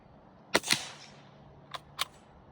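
A Delisle carbine fires subsonic Blazer Brass .45 ACP rounds, producing two muffled, snappy reports close together, followed a second later by two fainter sharp clicks, all fairly quiet against a low background.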